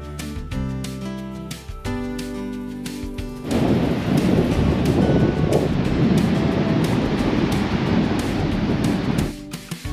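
Heavy surf on a southern Mauritius beach with strong currents and high waves rolls in as a loud, continuous roar. A broad, steady wash of crashing water follows a brief patch of tonal music at the start.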